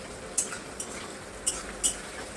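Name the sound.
onions frying in a pan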